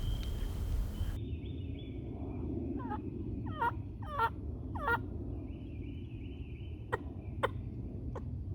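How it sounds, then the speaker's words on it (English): A wild turkey gobbles in the woods, a faint distant rattling call in a few bursts over a low steady outdoor rumble, with later sharp bird chirps. "One bird gobble."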